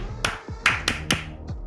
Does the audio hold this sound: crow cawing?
no